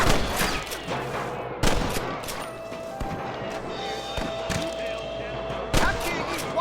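Dense gunfire from a Red Dead Redemption western shootout crackles near and loud, sharp overlapping shots in rapid bursts, with voices shouting over the battle.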